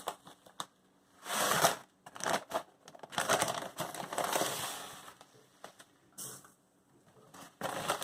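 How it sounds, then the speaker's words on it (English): Epsom salt poured into a glass bottle, heard as bursts of dry granular rustling and crunching, loud and close, separated by short pauses and a few sharp clicks. "Then fill it up with the remainder of the way with Epsom salt."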